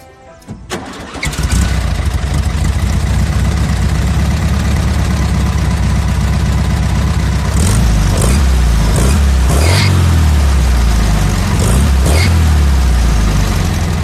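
A Volkswagen Beetle (Fusca) engine cranks and catches after a brief quiet start, then idles loud and close with several revs rising and falling over the steady air-cooled rumble.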